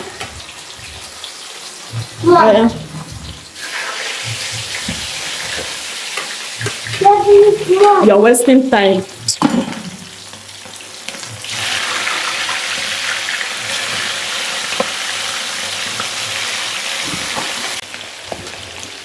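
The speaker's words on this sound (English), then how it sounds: "She's about to fry the chicken." Chicken fries in hot oil in a home kitchen, giving a steady crackling sizzle with louder surges as the pieces are moved and stirred, and a voice speaks briefly over it.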